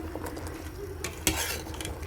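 A utensil stirs chopped peppers and garlic in a pot for pickles, scraping and clinking against the metal over a soft sizzle, with one sharper knock.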